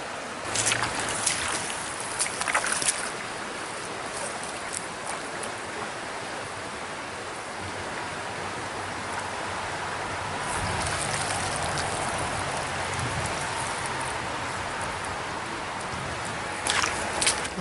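A river swollen after overnight rain rushes steadily at close range, a broad continuous roar of moving water with a few brief splashes and knocks on top.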